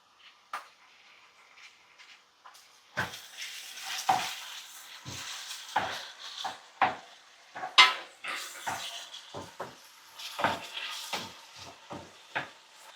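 Tomatoes frying in oil for Thoothukudi-style dry prawn thokku, stirred with a spatula in a pan: a steady low sizzle broken by repeated sharp scraping strokes at an irregular rhythm, close and without talk.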